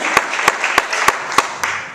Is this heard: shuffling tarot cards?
no